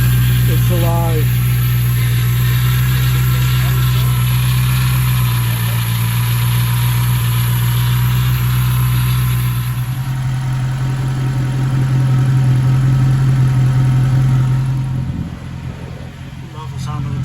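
A 1996 Ford Mustang GT with a freshly installed replacement engine idles steadily for the first time, a loud low rumble with a constant hum throughout, and a voice speaking briefly near the start.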